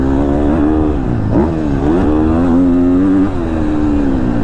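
A 2022 KTM 250 SXF four-stroke dirt bike engine drones steadily up close while being ridden, its pitch rising and falling through the revs with a brief dip and surge partway through.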